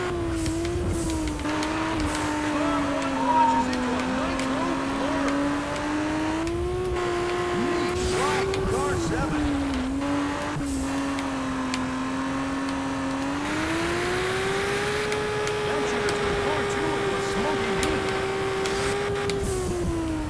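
A race car in the video game Juiced 2 drones at high revs throughout, its engine pitch rising and falling with gear changes, with scrapes and bumps from hitting walls mixed in.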